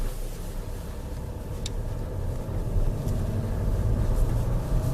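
A low, rumbling diesel engine idles with a rough, knocking clatter under a steady hum, gradually getting a little louder.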